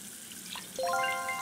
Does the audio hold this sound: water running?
yes